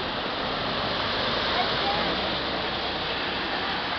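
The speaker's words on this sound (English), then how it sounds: "There's the drain right there, sucking in everything." Rainwater rushes into a street drain after a storm, a continuous loud hissing torrent of pouring water that stays steady and close for several seconds.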